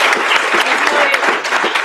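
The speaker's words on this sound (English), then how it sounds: "if you would all join me in extending a round of applause for him" Audience at an evening book event gives a steady round of applause, dense close clapping filling the short stretch with no pause or voices.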